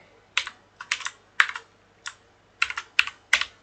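Typing on a computer keyboard while working in RStudio: clusters of crisp, close key clicks arrive in short irregular bursts separated by brief pauses, with nothing else heard.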